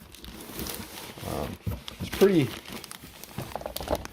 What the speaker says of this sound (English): Comes in a plastic bag.